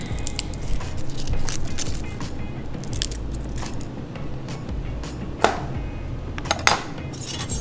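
Garlic grated by hand in a home kitchen while cooking a vegan eggplant dish: a steady, close rasping scrape lasting several seconds, broken by a couple of sharp clicks near the end, with no talking.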